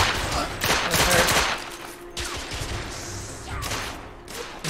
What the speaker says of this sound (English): It is a auto rifle.